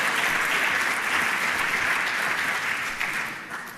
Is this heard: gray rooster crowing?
no